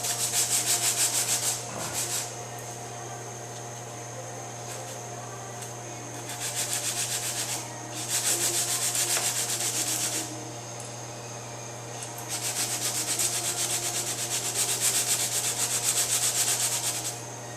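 Hand sanding with 80 grit paper on a body panel of a 2005 Honda S2000 under autocross damage repair: bursts of raspy back-and-forth rubbing alternate with quieter pauses over a constant low mains hum, close up.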